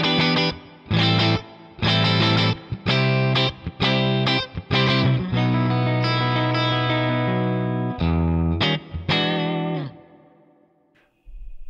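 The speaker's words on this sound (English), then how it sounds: "So it's just amp, cab, and reverb" An electric guitar plays through a HoTone Ampero II Stage amp and cab model with reverb. Distorted chords and notes ring out in bursts, loud and up front, and a reverb tail fades at the end with no talking.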